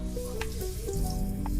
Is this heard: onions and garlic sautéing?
yes